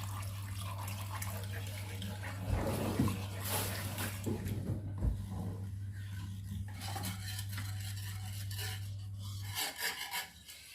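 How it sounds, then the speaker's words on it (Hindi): A spoon scrapes and rubs around a pan as milk is stirred into white sauce over a low flame, with soft repeated metallic scraping and a low hum underneath. "इसको लो फ्लेम पे हम हिलाते जाएंगे ताकि ये गाढ़ा हो जाए"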